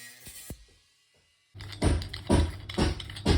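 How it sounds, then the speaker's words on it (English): A power tool cuts at a seized plumbing nut on a standard waste fitting, starting after a quiet pause with loud, close, rough grinding bursts that surge and ease in a steady rhythm. "have to try and cut that nut off"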